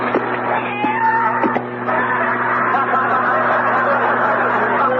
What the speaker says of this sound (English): The vacuum inhaled up the cat.